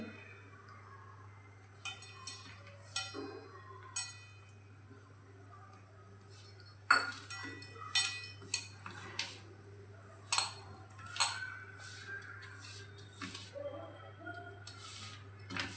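A spoon stirs a few spoonfuls of milk into a thick Maharashtrian sweet dish mixture, with irregular metallic clinks and scrapes against the bowl over a quiet hum, bunching into quicker taps midway.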